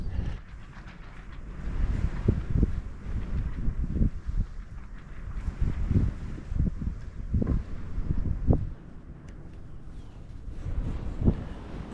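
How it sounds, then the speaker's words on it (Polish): Gusts of northerly wind buffet the microphone in low, blustery rumbles that rise and fall in irregular surges for several seconds, with no talking. "Takie porywy wiatru się zrobiły północnego."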